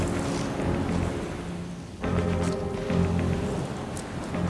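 Cyclone storm roars through mangroves with heavy rain and gusting wind, a dense, loud wash of noise that briefly eases before surging back.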